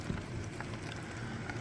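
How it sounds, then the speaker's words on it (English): Dense, steady hiss of heavy rain pouring down on a narrowboat, a constant broadband wash with no pauses. "That is some serious heavy rain."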